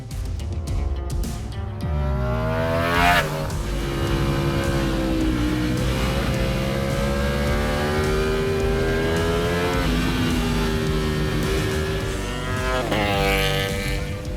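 A Ducati Panigale V4 S sport bike with a full-system Akrapovic exhaust and dry clutch roars loud and close on track, its engine revving and climbing through gears in sustained high-pitched harmonic sweeps with brief throttle lifts.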